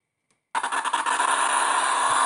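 After a brief silence and a faint click, a Honda Jazz L15A engine on an Arduino-based Speeduino ECU, built for an airboat, catches abruptly and settles into a steady, loud, close idle.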